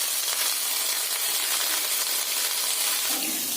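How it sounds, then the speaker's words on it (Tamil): Thuthuvalai leaves and coriander sauté in oil in a pan, giving a steady, bright sizzle and crackle that runs close and unbroken throughout, with no voices. "இப்ப அந்த எண்ணெய் வடக்கல்லையே போட்டு எல்லாம் வதக்கிடலாங்க."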